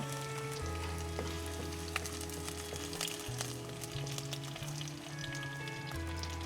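Ginger, garlic and green chilli sizzle steadily in hot oil for a sardine curry, a dense continuous frying crackle with no talk over it.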